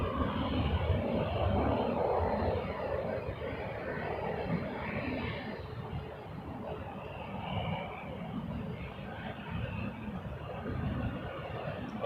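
An airliner at Toronto Pearson airport takes off on runway 06 left, a broad steady engine roar heard from a distance that holds through the whole stretch, with faint radio chatter underneath.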